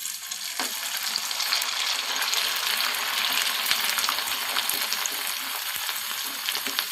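Rice vadagam (patta vathal) crackles and sizzles steadily in hot oil, a dense, close frying hiss that stays loud and even throughout, with no voices.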